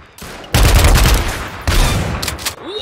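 An LMG light machine gun in Apewar fires in two loud, close sustained bursts of rapid automatic gunfire, separated by a brief break.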